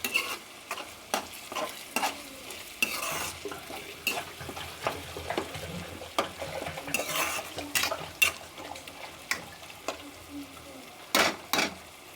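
Egg and potato curry cooking in a pan, with soft sizzling and bubbling under repeated scraping and stirring clinks of a utensil against the pan, fairly close and steady.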